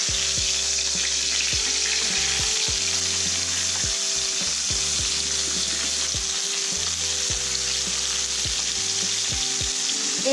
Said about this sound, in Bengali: এইভাবে ভালো করে উল্টে পাল্টে মাছগুলো ভেজে নিতে হবে